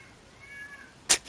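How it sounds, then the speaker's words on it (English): A house cat gives a single short, sharp meow near the end, loud against quiet room tone. "I hear the cat going."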